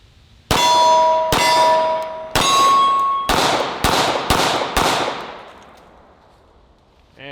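Seven sharp shots from a 1911 pistol each trigger a ringing clang off a steel target, three evenly spaced then four in quicker succession, the metallic ring decaying after the last one.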